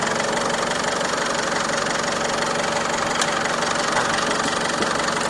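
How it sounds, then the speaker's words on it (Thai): A 2.5-litre DDI VGS turbodiesel engine of a 2012 Isuzu D-Max pickup idles with a steady, rattling clatter, close and loud, running evenly the whole time. "ให้ฟังเสียงเครื่องยนต์ก่อนนะครับ"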